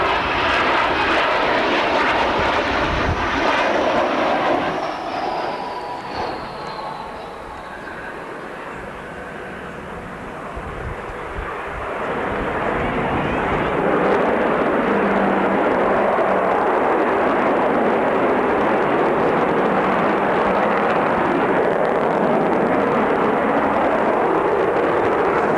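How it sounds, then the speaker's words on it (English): A 1985 Avro Vulcan jet bomber, still in service, roars past at an air show in Leicester, a loud, sustained rumbling jet sound with a falling whine that dips briefly mid-pass before swelling again into a heavy, continuous roar. "here it is, way back before it retired, when it was still in service. 1985, the Vulcan."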